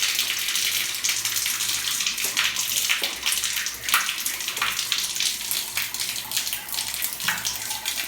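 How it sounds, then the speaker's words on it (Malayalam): Water running from a bathroom tap through the hot line of a newly installed water heater, a loud continuous splashing gush that holds steady throughout, with no talking. "ഇപ്പോൾ ഹോട്ട് ലൈനിൽ കൂടെ വെള്ളം വരുന്നുണ്ട്."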